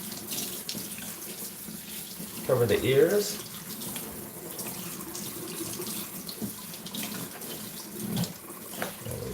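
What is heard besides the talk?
water running while bathing a dog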